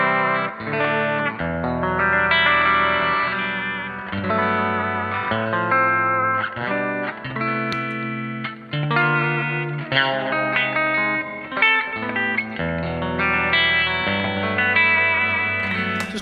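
A Stratocaster electric guitar plays chords and melodic lines with a warm, smooth Dumble-style overdrive, steady and fairly loud with no voices.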